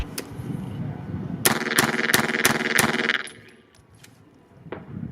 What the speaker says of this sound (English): You shoot the gun for the last time.